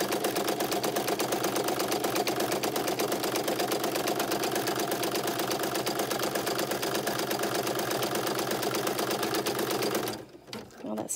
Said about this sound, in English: it's only gonna stitch a line up the side of the zipper